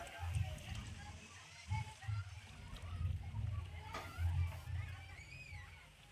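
Water rushes steadily down a slow-moving slide at Ocean Water Park in Shimoga, a low, churning slosh in uneven surges with faint voices in the background.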